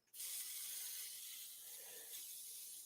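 A sudden airy hiss of an airbrush spraying paint onto an SBD Dauntless scale model starts abruptly and continues steadily, close and fairly quiet, with no talking.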